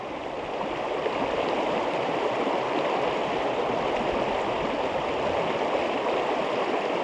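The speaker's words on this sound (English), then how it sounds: "nice little bit of moving, fast water, a bit of white water" A fast-flowing river with white water runs near a cottage at Glencoe in drizzle, making a steady, full rushing roar close by that never changes.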